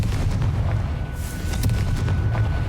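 The Confringo fire spell in Hogwarts Legacy lets off booming blasts over a heavy low rumble, the loud explosive bursts and crackles repeating closely with a brief whoosh in between.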